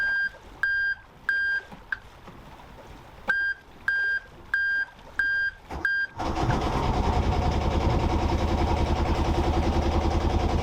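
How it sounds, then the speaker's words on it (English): A small sailboat's engine on the way to Alaska starts up after a series of ignition-panel beeps: short repeated electronic tones, a brief cranking, then the engine catches and runs with a steady, loud, close rumble. "we're going to see if we can start the engine"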